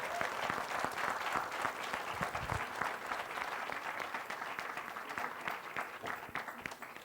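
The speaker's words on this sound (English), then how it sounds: "Please give them a big applause." A large literary-festival audience applauds the Indian Army, a dense, steady roar of clapping that fills the whole stretch at close range and tapers only slightly toward the end.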